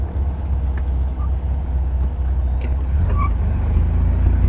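A 1974 MG MGB Roadster on the road, its steady engine drone and road rumble heard from inside, loud and continuous, with small rattles and squeaks over the top.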